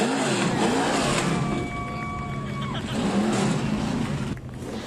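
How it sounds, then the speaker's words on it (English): Vintage race cars on a speedway straightaway start up and rev their engines, a steady loud roar with rising and falling revs, heard at a distance amid crowd ambience. "Drivers, start your engines!"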